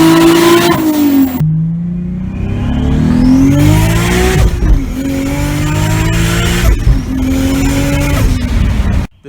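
A loud turbocharged sports car making 573 horsepower at 15 psi boost revs hard and accelerates, the pitch climbing through several gear shifts with a brief drop between each, no voices.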